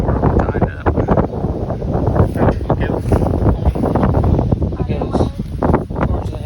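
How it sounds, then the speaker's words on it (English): Wind gusting outdoors on a farm where calves are tied up for grooming, buffeting the microphone as a loud, steady, rough roar that runs through the whole stretch with brief swells. "Sorry about the wind."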